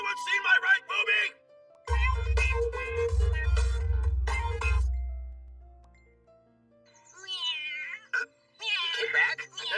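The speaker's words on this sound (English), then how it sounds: "ever since he's been showing up at my house meowing nonstop" A cat meows in an English-dubbed anime, a short wavering cry set among spoken dialogue and a low musical backing.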